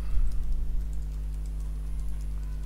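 Computer keyboard tapped in a light, irregular run of soft keystrokes while a passphrase is entered, faint over a steady electrical hum.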